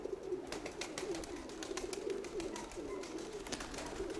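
Pigeons coo in a low, repeated rolling pattern that carries on steadily through the whole stretch. The birds sound close, with light rustling and background noise mixed in.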